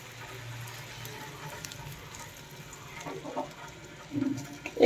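Chopped garlic frying gently in butter over a low gas flame gives a soft, steady crackle and hiss, faint throughout, with a few slightly louder pops near the end.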